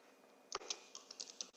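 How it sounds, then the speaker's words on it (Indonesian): A computer keyboard being typed on: about eight quick, light keystrokes in an irregular burst, close by but faint, with no talk over them. "Atau kita coba mengetik sini"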